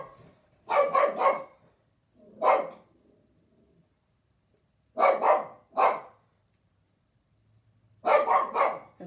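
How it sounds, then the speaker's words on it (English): A dog barks nearby indoors in clusters of sharp, loud woofs, two or three at a time separated by quiet gaps, with no talk over them. "That's a crazy dog."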